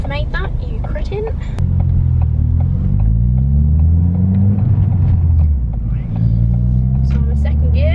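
A car fitted with a Scorpion exhaust drives in second gear, its engine rumble rising steadily with revs close to the microphone and dipping briefly before climbing again, loud and continuous.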